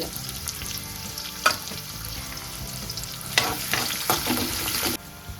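Onions sizzle and fry in a pan for dal, a steady close crackle with a few louder bursts and scraping stirs of the spoon, no talk.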